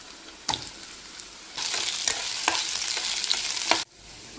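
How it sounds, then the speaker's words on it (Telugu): Potato pieces dropped into a pan with onions and green chillies, a few sharp knocks followed by a loud, close sizzle of frying that cuts off abruptly. "దీంట్లో బంగాళదుంప ముక్కలు కూడా వేగడానికి వేస్తాను."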